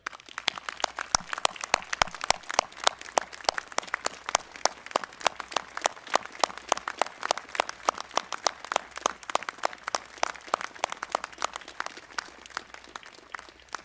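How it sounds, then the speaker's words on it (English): Applause for teachers at a state address, a crisp rhythmic clapping from an audience heard close and moderately loud, sustained with no speech over it. "I would like for everyone to take just a moment and give our teachers the applause they"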